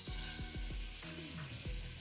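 Fish fillet frying skin side down in hot olive oil, giving a steady, loud close sizzle throughout with a few sharp crackles and pops over the hiss.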